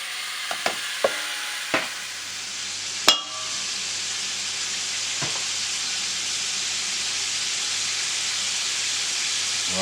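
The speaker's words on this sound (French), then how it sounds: "maintenant je vais faire revenir mes saucisses" Sausages frying in a pan with a little water over a strong flame: a few sharp clicks and taps, then a loud, sudden sizzle that settles into a steady, close hiss.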